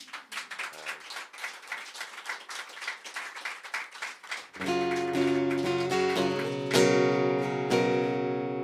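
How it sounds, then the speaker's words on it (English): A live concert crowd at Wintergrün claps in a dense burst of many hands for about four seconds, then the clapping gives way to sustained band music that rings on to the end. "give yourselves a round of applause"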